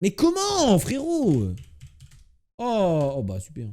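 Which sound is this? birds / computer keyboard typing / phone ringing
computer keyboard typing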